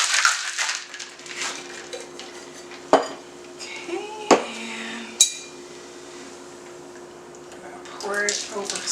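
Margarita poured over ice in a glass, with liquid trickling and a few sharp clinks and knocks of ice and glassware, heard up close while someone talks.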